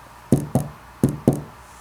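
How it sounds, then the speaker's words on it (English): Four crisp knocks strike a wooden door, in two quick pairs with a short pause between, close and sharp against a quiet background. "She knocked on the door with a nice little rap."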